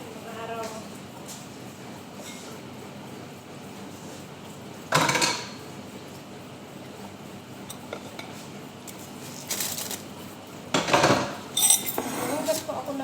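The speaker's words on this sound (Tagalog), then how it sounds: "Hugas po ako ng plato." Plates and dishes being washed, with scattered clinks and clatters of crockery and cutlery, a few louder bursts of rattling between quieter stretches, close by, and a voice talking at moments.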